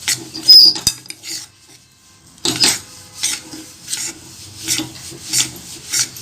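A spoon scrapes and stirs gram flour roasting in a pan for besan laddu, producing dry rasping strokes in an irregular rhythm, close up and loud, with short quiet gaps between bursts.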